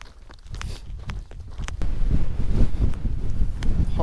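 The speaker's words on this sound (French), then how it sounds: "Des rafales qui se mettent à souffler là tout d'un coup" Strong, gusty mountain wind in the Mercantour near the Lacs de Vens, buffeting the microphone as a low roar that swells and grows louder partway through, with faint rustling and clicks and no one speaking.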